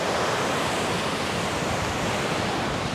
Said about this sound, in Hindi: झरने का नज़ारा, जो पहाड़ से पानी गिरते गिरते बहुत ही आगे जा रहा है।